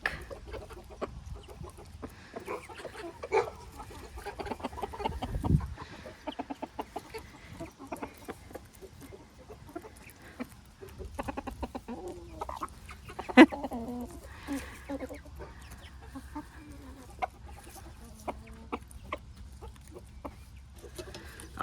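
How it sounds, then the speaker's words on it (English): Roosters cluck and murmur softly in short bursts over a treat, with occasional louder calls and light rustling, fairly close by in a quiet outdoor hobby-farm setting. "you hear the noise the roosters make when they get a special treat?"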